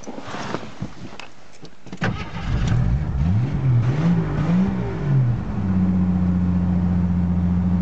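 A 1981 Jeep Wagoneer Limited with a 258 six-cylinder engine cranks and catches, then revs up and down in several throttle blips before settling into a steady, rough idle, loud and close with no talk.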